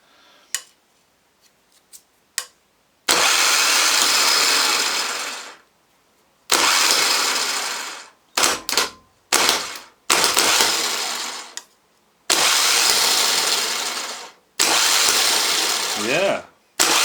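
A Bosch starter solenoid, stripped down and repaired but still sticking, is tested with the starter. It gives repeated loud bursts of motor whirring, each lasting a few seconds, separated by pauses with faint clicks.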